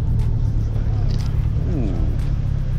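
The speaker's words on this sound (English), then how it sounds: "Look at what just pulled up, y'all, MR2." A Toyota MR2 pulls up at a nighttime roadster gathering, its low engine rumble steady and close beneath the voices of people talking nearby.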